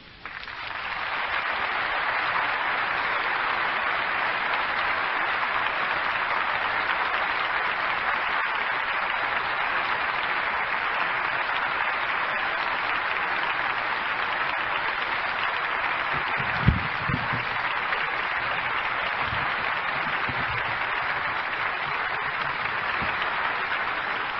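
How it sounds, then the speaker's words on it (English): Sustained audience applause fills the hall after a religious talk, steady and dense throughout with no voices, apart from a brief low thump near the end. "I know you feel assured by that applause"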